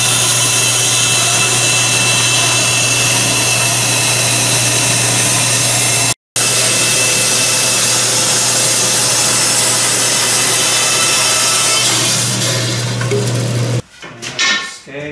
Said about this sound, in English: Cut that out on the bandsaw.